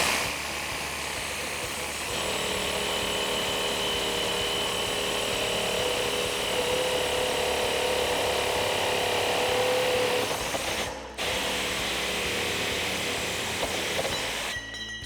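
A jigsaw fitted with a metal-cutting blade saws through 1.5-inch steel box tube, giving a loud, continuous buzzing rasp that holds steady for most of the cut, with two brief interruptions near the end.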